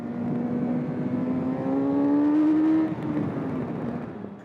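A 2025 Honda CB1000 Hornet SP motorcycle, running a detuned Fireblade engine, accelerates hard. Its engine note climbs steadily in pitch, close and loud, then eases off.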